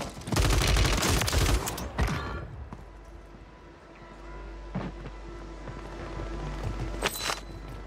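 Video game gunfire, a dense loud burst of rapid shots for about two seconds, followed by quieter ambient rumble and a few scattered distant shots and clanks.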